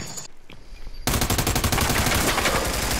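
Gunfire in a first-person video game: a few sharp shots, then a loud, rapid automatic burst of evenly spaced cracks that runs nonstop for about two seconds.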